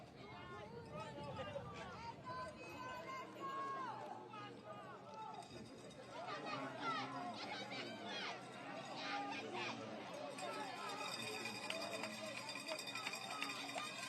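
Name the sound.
football crowd building up at a Nations League match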